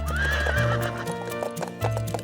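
A horse neighs with a rising, wavering whinny while hooves clip-clop, set over a loud background music bed.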